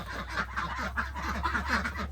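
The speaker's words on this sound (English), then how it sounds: "Right now we have our ducks in the high tunnel." Ducks kept in a high tunnel on a garden plot, a dense overlapping chorus of honking quacks from several birds close by, with no talk.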